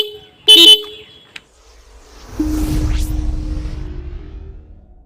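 A newly fitted dual horn on a Pulsar 125 motorcycle gives one short, loud honk up close, followed later by a low engine rumble with a steady tone held over it.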